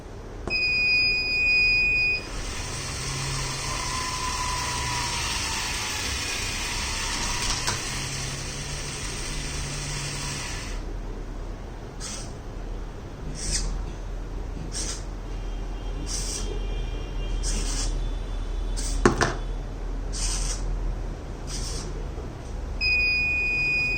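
A robotic arm machine's buzzer sounds continuously at first, then switches to a series of short repeated beeps over a low conveyor belt motor hum.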